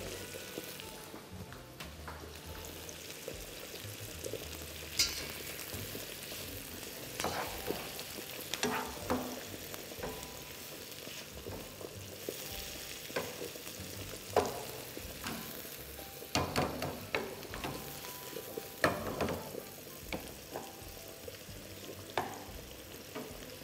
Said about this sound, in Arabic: هاكم يتقليو.